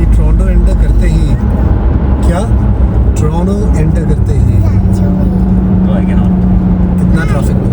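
Steady road traffic heading into Toronto, a continuous loud rumble of car engines and tyres from inside a moving vehicle, with people talking throughout.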